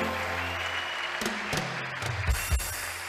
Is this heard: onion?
no